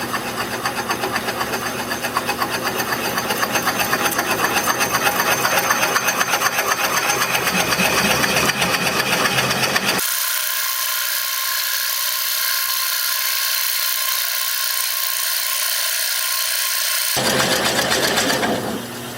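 Wood lathe spinning at about 240 RPM, drilling with a 2.5-inch Forstner bit: a loud sustained mechanical whine and grind that abruptly shifts to a thinner, higher hum midway, then briefly returns before stopping.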